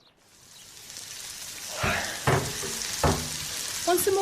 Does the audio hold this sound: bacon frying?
yes